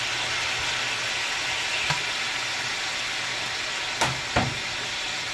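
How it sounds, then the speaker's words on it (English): Beef with chopped jalapenos, garlic and onion fries with a soft continuous sizzle and hiss, broken by a few brief clinks or stirring knocks near the end, no voices. "to the beef, I'll be adding in some chopped jalapenos, garlic, and onion."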